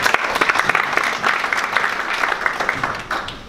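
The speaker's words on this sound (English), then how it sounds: "let's give a round of applause for that" Applause from an audience at the inaugural African Diaspora Women Summit, a steady wash of many hands clapping at close range, with a slight drop in level near the end.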